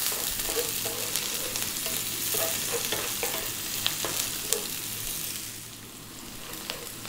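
Onion drops onto cumin seeds in hot oil over high heat for matar paneer, a bright, steady sizzle with scattered stirring clicks that quietens toward the end, close by and free of talk.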